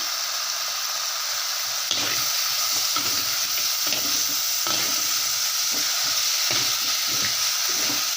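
Vegetables are stirred as they fry in a pan for a village-style prawn curry, with a loud, continuous sizzle broken by repeated scraping strokes of the spoon, and no voices.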